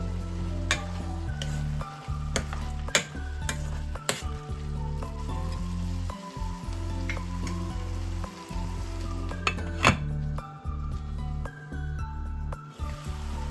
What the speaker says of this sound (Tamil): சேர்த்து நல்லா பிரட்டிட்டு திரும்பவும் மூடி விடுறேன்.